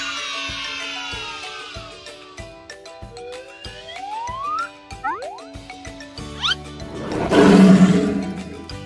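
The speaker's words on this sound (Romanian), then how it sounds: "E un leu!" A lion lets out one loud, rumbling roar near the end, preceded by playful music with sliding whistle-like tones.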